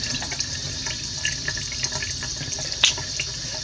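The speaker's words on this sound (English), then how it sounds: "you're going to want to get some hot water going." Hot water running steadily from a household tap into a sink, a continuous soft hiss and splash with small drips and one sharper splash, heard alone without talk.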